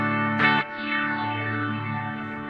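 Boss Tera Echo TE-2 guitar pedal at maximum setting swells a sustained guitar chord into a shimmering, smeared echo after a brief bright strum, the ambient tail lingering and slowly shifting.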